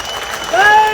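An audience claps steadily at an outdoor public speech to farmers, a dense wash of hands lasting the whole second and swelling slightly louder midway, joined in the second half by a sustained whistle-like tone above the clapping.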